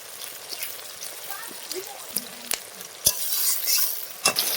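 Chopped onion and garlic fry in oil with a dried chilli and bay leaf while a spoon stirs them, giving a steady soft sizzle broken by sharp scrapes and clinks of the utensil against the pan.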